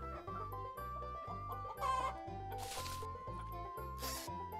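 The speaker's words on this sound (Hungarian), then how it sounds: "De hogy a tyúkocska ne legyen egyedül, megérkezik a kakas is." Cartoon rooster and hen on a farm by a wheat field, heard as bright clucking and fowl calls over a steady, bouncy children's music backing with a rhythmic beat.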